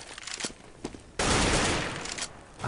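Rapid burst of automatic gunfire in a CS:GO match, a few scattered shots followed by a loud sustained volley up close.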